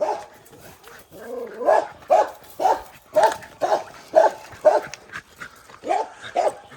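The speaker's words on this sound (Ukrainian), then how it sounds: "тільки собака, звісно, гавкає" A dog barks outside on a village street in a loud, fairly close series of about ten sharp barks in an uneven rhythm, with a brief whine at the start.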